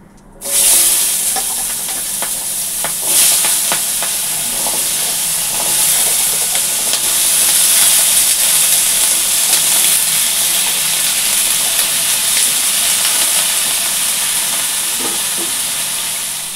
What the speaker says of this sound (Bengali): জিরা দিয়ে দিলাম ফোড়নে, তেজপাতা, একটু হলুদ দিয়ে দিই